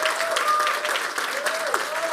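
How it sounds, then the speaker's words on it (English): Audience applause at the final of a Balkan sommelier competition, steady broadband clapping filling the hall for about two seconds, with a voice faintly carrying over it. "let's give a big applause for our guest competitor, Ellen Franzen from Sweden."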